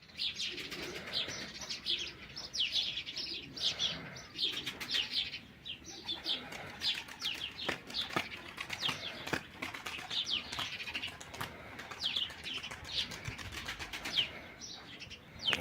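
A young smoke-coloured pigeon flaps its wings, a soft repeated fluttering mixed with chirps, cooing and other bird calls in the background, moderately faint throughout.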